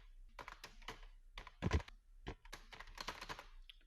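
Keys clatter on a computer keyboard while text is typed into an MS Word document, a quick irregular run of close, crisp taps with one heavier thump partway through, no voices.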